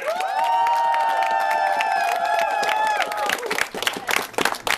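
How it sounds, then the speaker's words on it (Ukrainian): Wedding guests burst into loud cheering and whooping with a strong sustained shout for the first few seconds, then break into dense clapping and scattered shouts that continue to the end. "Ваші шалені овації!"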